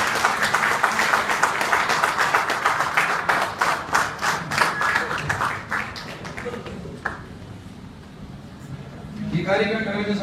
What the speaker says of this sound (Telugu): అందరికీ మనమందరం ఒకసారి లేచి నిలబడి చప్పట్లతో